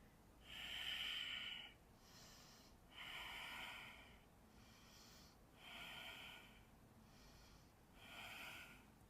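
Slow, deep breaths in and out during a yoga flow, four long airy cycles with pauses between, close and quiet with no talking.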